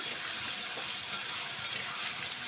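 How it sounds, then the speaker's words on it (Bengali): Vegetables with salt and turmeric fry in a kadai, giving a soft, steady hiss of sizzling oil with a few faint clicks from stirring, quiet and without voices. "সবজিগুলো আমি কড়াইতে দিয়ে দিলাম দিয়ে এতে আমি পরিমাণ মতো একটু নুন দিলাম দিয়ে সবজিগুলোকে আমি ভেজে নেব"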